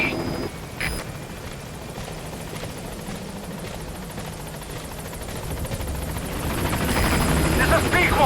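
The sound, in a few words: helicopter B-Quad arriving at landing zone in Metal Gear Solid V video game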